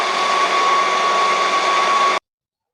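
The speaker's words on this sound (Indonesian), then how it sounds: "Kita blender sampai halus ya, sampai halus." An electric blender grinds rendang spice paste with a loud, steady high whir that runs unbroken for about two seconds, then cuts off abruptly into silence.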